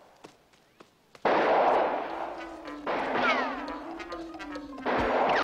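Sniper rifle shots ring out in the Highlander video game amid loud, sustained in-game noise, with a few sharp cracks early on followed by heavy rumbling bursts and sweeping tones.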